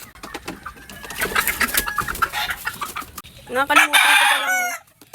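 A rooster crows loudly near the end after a stretch of clucking and scattered bird calls close by.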